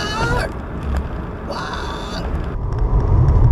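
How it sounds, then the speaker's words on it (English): A single harsh, raspy Florida scrub jay call rings out briefly midway, nearly buried in a steady low rumble of engine and traffic noise. "that was the sound of the Florida scrub jay"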